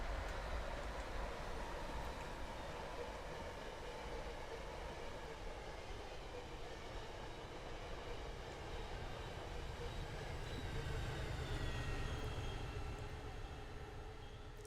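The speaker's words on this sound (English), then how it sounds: "Yep, it's an old double-decker MBTA train." An old double-decker MBTA commuter train hauled by an HSP-46 locomotive passes in Train Sim World 5, a steady rumbling roll with faint wheel clatter and whining tones holding throughout.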